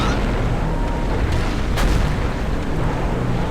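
A tank cannon in a tank video game fires in quick succession, booming blasts close together over a dense, rumbling battle din with no clear gaps between them.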